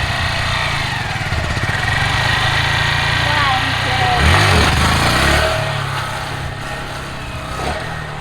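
A Honda Grom motorcycle engine drones loud and steady, rising in pitch midway as the rider pulls a wheelie, then settling back, close up with constant buzzing throughout.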